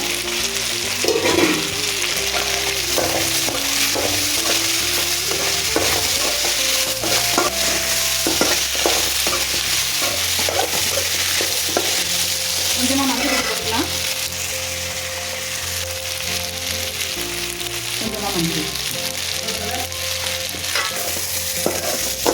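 Potato stir-fry sizzles steadily in a pan while a spoon scrapes and stirs it, a loud, continuous frying hiss with repeated clinks and scrapes from close by and no talking.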